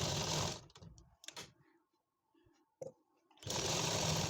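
Sewing machine stitching an Afghani palazzo: a close, steady whir at the start, a quieter stretch of light clicks and handling, then the motor whirring again at the end.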